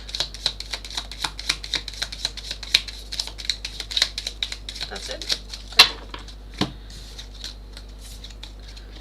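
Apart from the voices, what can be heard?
shuffling tarot cards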